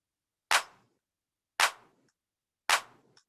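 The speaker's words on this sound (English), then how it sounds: "Hand clapping is very common in making hip hop beats." Three sharp hand claps from a hip-hop beat-making sample in GarageBand, evenly spaced about a second apart, each crisp and dry with a short decay against silence.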